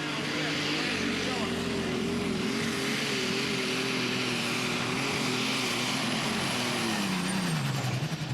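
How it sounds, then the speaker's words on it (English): A Light Weight Super Stock pulling tractor with old-school International sheet metal, called Insanity, roars at full throttle at a Franklin, Kentucky pull, its tires spinning; one loud, sustained engine howl that wavers and drops in pitch near the end. "he went to the throttle hard, clutch out, lit the tires up"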